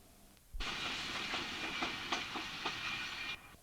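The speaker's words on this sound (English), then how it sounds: "this coal train, bound for either Cottam or Westburton, goes under the East Coast Line" A coal train passes beneath the East Coast Line at Retford Lower Station, a loud steady rumble with rhythmic clickety-clack wheel beats that starts abruptly and runs unbroken for several seconds before easing off.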